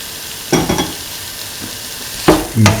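Cubes of cottage cheese stirred into a coconut milk stew frying in a pan, with loud bursts of scraping and sizzling in two separate rounds, the second more vigorous, over a low steady fry.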